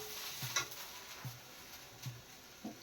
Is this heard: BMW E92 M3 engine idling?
no